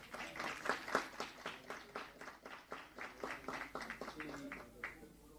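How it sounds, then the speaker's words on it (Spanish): An audience applauds at a Spanish-language book launch on artificial intelligence, a steady run of individual claps that fades toward the end, with a voice briefly present underneath. "Muchísimas gracias y un aplauso muy merecido."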